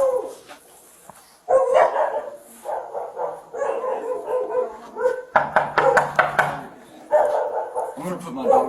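A dog barks in a home several times, sharp bursts mixed with raised human voices and shouting close by, with bangs and movement around them.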